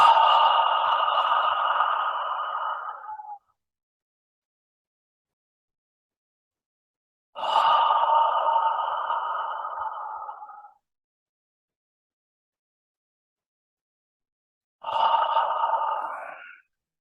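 Three long yoga ocean-breathing exhales sighed out through the nose, each about three seconds of steady hissing breath, separated by silent pauses, soft and close with no talking.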